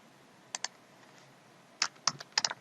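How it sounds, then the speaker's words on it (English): Keystrokes on a computer keyboard: two quick taps, a pause, then a short burst of several clacks, close and clear in a quiet room. "here I will type"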